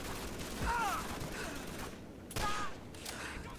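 Trench gun shotgun fire in the Call of Duty 3 video game, with two loud blasts about two seconds apart over a steady backdrop of game noise.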